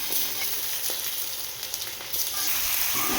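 Chicken sizzles and fries steadily in a hot pan, a continuous close crackling hiss with occasional stirring scrapes and no talk.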